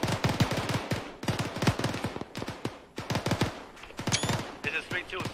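Machine gun fire in the Arma 3 military game, repeated sharp bursts of rapid rounds in uneven clusters, loud and close, with brief radio-style voices talking near the end.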